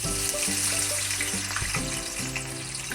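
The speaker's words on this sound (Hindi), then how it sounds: "इसमें मैं तकरीबन 2 से 3 अदद दरमियाने साइज़ की प्याज़ें काट के वो इसमें डालूँगा और इसको मैं फ्राई करूँगा" Two or three medium onions, chopped, fry in hot oil toward golden brown for paneer kofta, a dense continuous sizzle heard close up beneath tonal background music.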